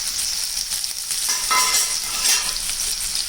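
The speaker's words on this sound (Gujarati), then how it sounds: "હવે આપણે તેમાં લીલું લસણ એડ કરીશું।" Chopped green garlic hits hot oil with crackling cumin seeds, setting off a bright, loud, continuous sizzle that flares up midway and stays close, with stirring and no voices.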